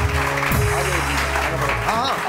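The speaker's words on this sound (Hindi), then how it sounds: "तालियां जी तालियां" Studio audience clapping on a Pakistani morning talk show, a steady loud wash of applause running the whole moment beneath overlapping voices and background music.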